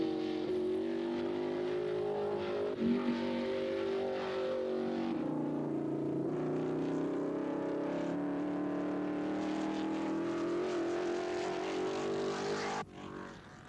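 1955 Formula 1 race cars at the British Grand Prix at Aintree, engines droning loudly through a corner with pitch rising and falling as they accelerate and lift, one steady roar cutting off abruptly near the end.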